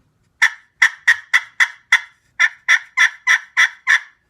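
A series of sharp, raspy yelps from a friction turkey call worked with a crystal striker over a slate surface, twelve in two quick runs with a brief pause between, loud and close.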